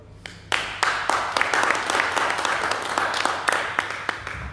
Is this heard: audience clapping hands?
yes